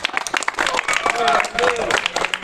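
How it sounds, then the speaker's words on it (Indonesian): Students in a physical education class clap together, a loose burst of sharp hand claps mixed with lively voices talking and calling out over it. "Mari kita tepuk tangan untuk kalian semua"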